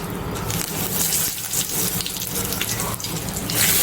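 Asafoetida and curry leaves sizzle in hot oil with a steady, loud, hissing crackle that stays even throughout, with no voice over it.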